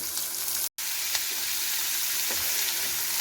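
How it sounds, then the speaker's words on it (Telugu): Onions fry with bitter gourd in a pan, a close, steady sizzle that continues almost unbroken, apart from one brief cut near the start. "ఇప్పుడు ఉల్లిపాయలు వేసేద్దాం ఇవి ముందుగా వేస్తే మాడిపోతాయి అందుకని అవి సగం వేగిన తర్వాత ఇవి వేసి వేయించుకోవాలి"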